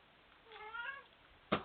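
A house cat meows close by in a quiet kitchen, one drawn-out rising and falling meow followed by a short sharp chirp.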